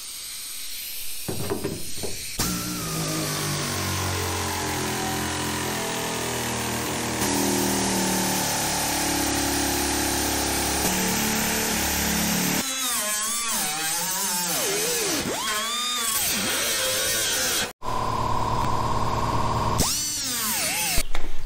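A zip cut-off wheel cuts through the sheet metal of a 1969 Chevy Nova body during rust repair. It makes a continuous loud, shrill grinding whine that shifts in pitch as the wheel bites and bogs, and it stops briefly near the end.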